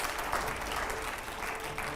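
Steady studio audience applause on a Hindi TV panel show, a dense, even wash of clapping held at moderate volume throughout with no voices breaking through.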